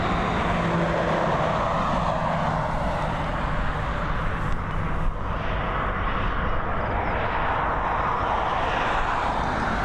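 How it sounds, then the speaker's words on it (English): A Ryanair airliner takes off at Dublin Airport, its jet engines giving a broad, steady roar that holds at constant strength throughout, heard from a distance outdoors. "He did a perfect position takeoff for us there."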